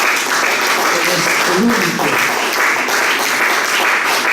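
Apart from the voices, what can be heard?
congregation clapping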